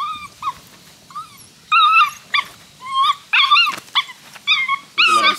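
An 8-week-old Dutch Shepherd puppy growls and yips in bursts during bite work, high whiny growls rising and breaking off repeatedly, close by and with no talk.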